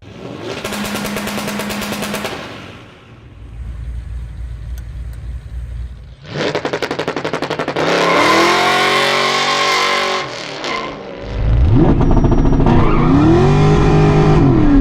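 A modified Foxbody Mustang V8 at a drag strip with two-step launch control crackles in a rapid popping stutter, then roars hard up through the revs with gear changes, loud and close throughout.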